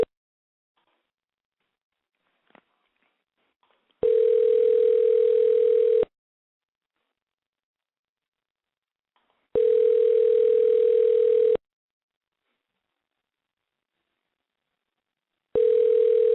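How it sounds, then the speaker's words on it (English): Ringback tone heard on an outgoing telephone call, three steady, even buzzing rings about two seconds long, separated by long silent gaps and heard alone. "I want somebody to pick up the phone, please."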